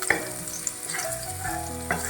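Garlic sautés in a pan for mushroom pasta, giving a soft, continuous sizzle with a few faint clinks of stirring, heard alone and fairly quiet.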